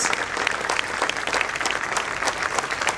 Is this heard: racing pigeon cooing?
no